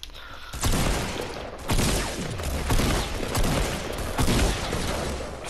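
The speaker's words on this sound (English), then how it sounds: "People still shooting" Gunfire in the Fortnite video game: several heavy, loud bursts of shots come in quick irregular volleys, with rattling fire continuing between them and no talking.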